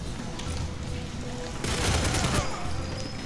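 Automatic AK rifle fire in the GoldenEye video game, a dense burst of rapid shots in the middle of the stretch over steady background game noise.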